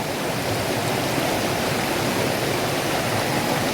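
River water rushing steadily, a broad continuous wash with no pauses, close and fairly loud, with no voices over it.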